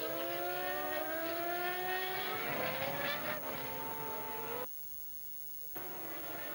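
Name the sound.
Formula 1 cars driving past behind the safety car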